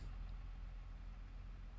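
A New Holland tractor engine in the video game Farming Simulator 22 idles as a faint, low, steady rumble for a couple of seconds, with no talking.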